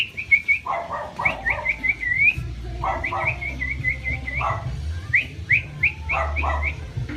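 A young pet bird gives repeated short rising whistled chirps in quick runs, close and fairly loud, over low rumbling handling noise and a few dog-like yelps.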